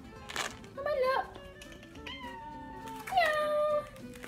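Cats meow in a busy cat café in Leeds: two drawn-out, rising-and-falling meows, one near the start and a louder one near the end, with voices nearby.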